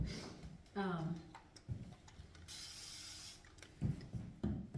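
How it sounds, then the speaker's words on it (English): A short hissing burst from a spray bottle onto a wig sounds once, close by, between stretches of someone speaking quietly and soft handling noises. "I'm going to try to spray this, and where's my spray bottle?"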